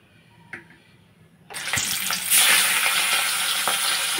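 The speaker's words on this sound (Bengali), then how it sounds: "দুটো মাছ আগে আমি ভেজে নিচ্ছি" Hilsa fish drop into hot mustard oil in a kadai, and after a quiet start a loud, sustained sizzle and spatter suddenly rises and holds steady, with no one talking over it.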